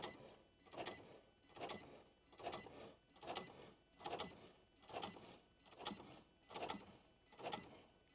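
Cricut cutting machine running a basic calibration cut, a faint motorized whir rising and falling in regular passes about every 0.8 seconds, close and alone.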